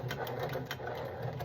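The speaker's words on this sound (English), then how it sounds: "Now I'm going to go backward about 1 inch, right on top of where I just sewed." A sewing machine runs steadily while stitching backward over a seam on a Carhartt hunting coat during a zipper replacement, a close, continuous rapid mechanical whir with a fine rhythmic needle patter.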